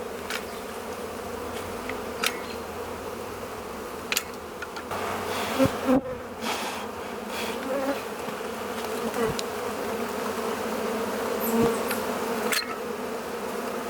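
Steady buzzing of many bees around a tree in Millbury, Massachusetts fills the scene, a continuous insect drone with occasional louder passes close by, no voices.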